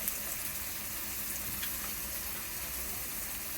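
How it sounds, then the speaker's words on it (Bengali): Ground ginger, cumin paste and coriander powder frying in a pan, a soft continuous sizzle with faint pops, quiet and steady throughout. "ভালো করে ভেজে নিয়ে ভালো করে কষিয়ে নেব"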